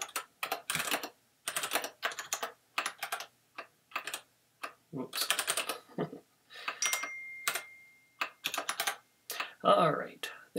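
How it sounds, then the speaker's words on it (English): Loud clattery typing on a noisy computer keyboard, close up, in quick bursts of keystrokes separated by short pauses, with a brief stretch of sustained noise near the end. "Sorry about my loud keyboard."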